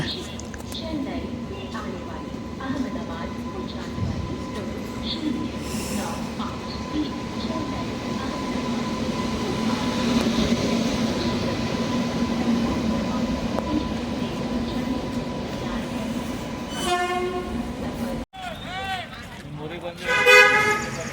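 At Raichur railway station, a departing train gives a sustained horn toot over a continuous rumble of rolling wagons, with a person talking and a louder burst of noise near the end.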